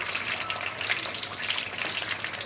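Kabab rolls fry in a pan over a medium-low flame, giving a steady, close, crackling sizzle with fine popping spatter that continues evenly without a break.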